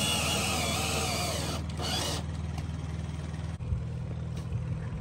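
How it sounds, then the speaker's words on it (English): A power drill drives screws into a wooden deck outdoors, its high whirring motor running steadily, then winding down as the screw seats, followed by quieter handling noises. "Putting in the last couple screws on the deck."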